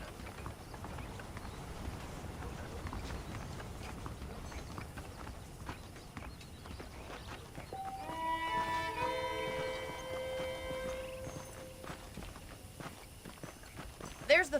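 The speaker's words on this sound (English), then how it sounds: "The horses are saddled up over here." Horse hooves clip-clop steadily in the Western video game Red Dead Redemption, a continuous walking rhythm at moderate distance under a voice and soft ambient game music.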